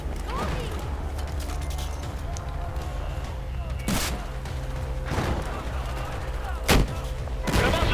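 Gunfire in Battlefield 4 against a helicopter: several sharp, loud shots spaced a second or two apart over a rumbling battle bed, with voices talking underneath.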